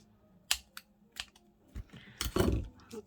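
Scissors cut a tail off a journal card made from book images, heard as a few sharp nearby snips and paper rustles spread across a few seconds.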